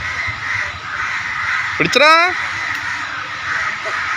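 A single harsh crow caw rings out close by, over a constant background hum, as crows swoop and peck at people.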